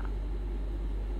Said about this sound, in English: Sorry for the noise, as the air conditioner is quite hot today.